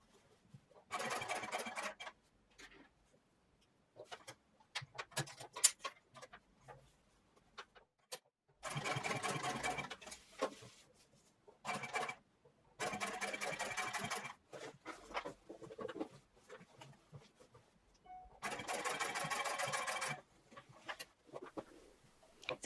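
Sewing machine topstitching a heavy denim jeans waistband in several separate bursts of rapid, even needle chatter, each lasting a few seconds, faint and close, with quiet handling noises and pauses between runs.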